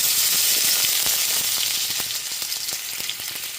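Small diced potato pieces frying in hot mustard oil, giving a loud, dense, continuous sizzle and hiss up close, with faint crackles throughout.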